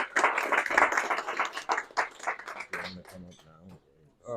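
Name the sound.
applause for Nicholas Benton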